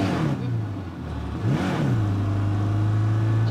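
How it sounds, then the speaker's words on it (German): Car engine in the video game State of Decay 2 dropping in pitch as the vehicle slows, then settling into a steady, loud drone, with no talk over it. "der Wagen hört sich total schrecklich an, immer wenn du langsamer wirst"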